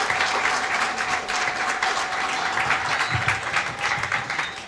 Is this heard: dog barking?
no